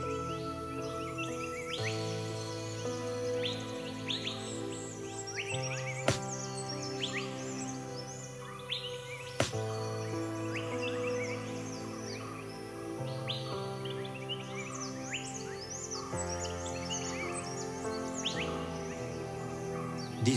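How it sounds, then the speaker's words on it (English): Several birds calling in an Indian forest, varied chirps, whistles and trills overlapping continuously at mid distance over a steady tonal background, with two sharp clicks partway through. "These forests are alive with the calls of birds."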